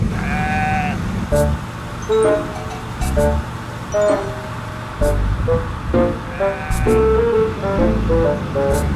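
Sheep bleat over and over in short, wavering cries, some overlapping, set against a low rumbling background.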